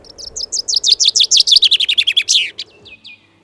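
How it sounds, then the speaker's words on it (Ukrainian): A songbird in spring delivers a loud, close run of about eighteen rapid chirps that speed up, then trail off into a few fainter notes. "усе навколо переповнюється весняним і радісним щебетом пернатих"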